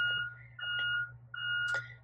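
Electronic beeping from road construction equipment sounds in steady, repeated tones, faint and distant, over a low constant hum indoors.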